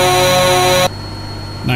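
A Kenworth T660 air horn in American Truck Simulator sounds one loud, steady blast of just under a second, then cuts off, leaving the truck's low engine idle.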